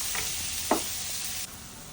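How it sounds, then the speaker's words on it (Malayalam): Onion softening in hot oil in a pan for Kerala-style beetroot thoran, a steady close sizzle running alone with a soft stir clatter partway through, then a slightly quieter hiss near the end. "ഉള്ളി ഒന്ന് സോഫ്റ്റ് ആവുന്ന വരെ സോട്ട് ചെയ്യുക."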